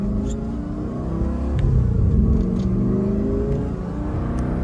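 A pre-LP Lamborghini Gallardo engine revs while driving in sport mode, a loud, close, steady mid-pitched growl that swells briefly and settles, with no talking.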